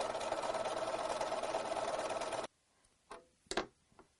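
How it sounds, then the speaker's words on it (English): A sewing machine stitching quilt fabric for flying geese units runs as a steady, loud whir for about two and a half seconds, then stops, leaving a few faint clicks and handling sounds. "And now I'll just sew that side."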